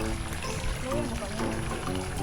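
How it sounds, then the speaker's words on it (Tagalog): Natural spring water pours and flows steadily at a camping spot on a farm, a broad continuous rush with a person talking over it. "Tapos flowing pa yung tubig."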